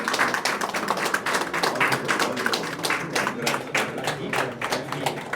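An audience claps and applauds at the grand opening of Dhanam Investment & Finance in Erode. The clapping is dense, steady and continuous throughout, with no voices standing out.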